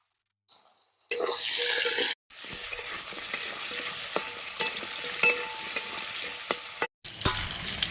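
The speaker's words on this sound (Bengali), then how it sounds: "কুমড়ো পটল একসঙ্গে দিয়ে ভেজে নেব" Pumpkin and pointed gourd pieces frying together in a pan, a loud steady sizzle broken by a brief pause, with clattering stirs and scrapes throughout.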